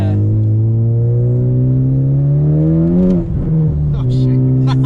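A 2018 Honda Civic Type R engine heard from inside the cabin, a loud steady drone that climbs in pitch, dips briefly with a gear change, then holds again, with people talking over it.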